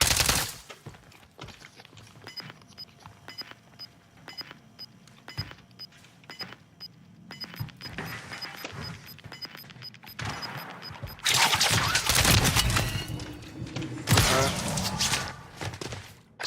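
Gunfire in a video game shooter pops sporadically at low volume, then erupts into two loud, sustained automatic bursts with thumping impacts near the end.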